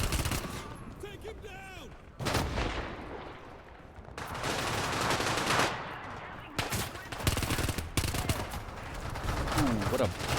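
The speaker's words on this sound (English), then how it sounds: "I probably shouldn't be shooting at that distance with a MAC-10" MAC-10 bursts in the infantry mode of the War Thunder video game: rapid, loud machine-gun volleys, one after another with short gaps, while a player shouts briefly over the shooting.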